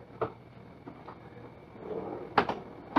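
Drawers in the galley of a Vision Yachts 444 cruising catamaran slide open and shut, with a soft early knock and then a couple of sharper clunks near the end over a quiet cabin background.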